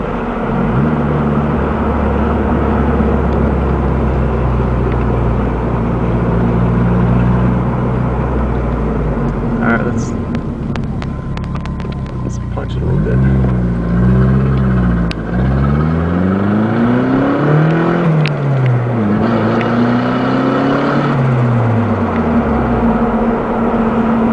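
Rebuilt turbocharged engine of a project GS Turbo car idling with a steady low drone, then revved repeatedly in rising and falling swoops, kept to moderate RPM and low boost, loud and close.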